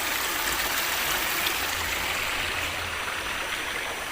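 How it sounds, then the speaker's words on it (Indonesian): A river stream of flowing water, a steady broadband rush and babble that holds constant throughout, close and fairly loud with no voices. "Ini ada air, ada sungai."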